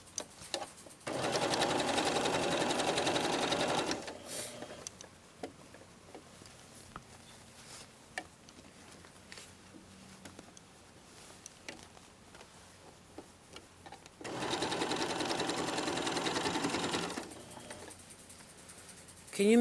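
Sewing machine running in two loud, steady bursts while stitching a jacket hem, with quieter handling and faint ticking between the runs.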